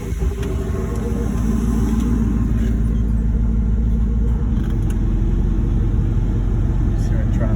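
A 1984 Chevrolet Camaro Z28 engine idles with a steady low rumble, joined by a constant blowing hum from the air conditioning, loud and continuous throughout.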